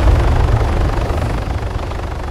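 Helicopter in the video game Arma 3, a loud, steady rotor and engine roar with heavy low thump that holds constant throughout, close and alone with no talk.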